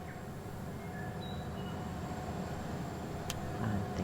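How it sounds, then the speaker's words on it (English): Model train engines running in the Rolling Line video game, a steady loud mechanical rumble with rail-like rolling noise throughout, continuous and close, with no talk. "Ah, the engines are loud."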